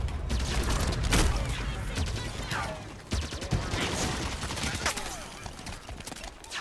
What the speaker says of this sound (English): why are these guys shooting me?